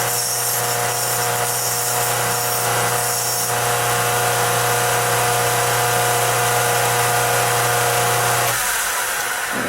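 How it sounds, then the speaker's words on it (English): A metal part for a guillotine tool being sharpened on a bench grinder, a loud steady whirring hum with a harsh grinding hiss, strongest early on, before the tone drops off near the end. "Let me run this over the grinder just another second here."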